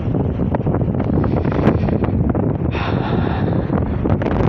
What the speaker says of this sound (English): And it's getting quite windy.